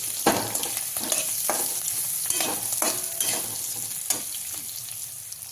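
Boiled potatoes and green chillies being sautéed in a pan for sabudana khichdi: soft sizzling under a run of repeated spatula scrapes and taps at an uneven pace, close and fairly quiet, no talk.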